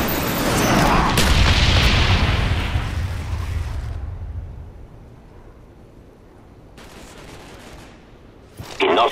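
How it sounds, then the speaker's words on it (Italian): An allied napalm bombing strike in Call of Duty Black Ops gives a heavy roaring blast with crackling debris that fades over about four seconds into a low quiet rumble, with another sharp hit at the very end. "Bombardamento napalm alleato in arrivo."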